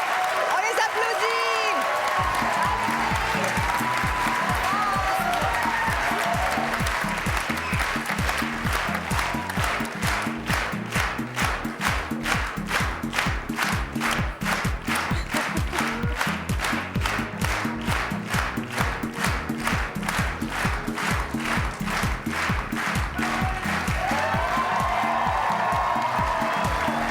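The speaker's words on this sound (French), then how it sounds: "On les applaudit!" A studio audience at a Quebec reality TV show applauds hard and steadily, a dense roar of many hands with cheering and crowd noise that keeps building and stays loud throughout.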